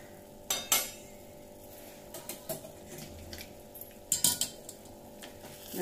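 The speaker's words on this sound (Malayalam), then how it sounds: "ഇളക്കി നോക്കാം" A pot of chicken biryani is stirred, giving quiet scraping and scattered light metallic clinks of a spoon against the cooking pot, with a few sharper knocks.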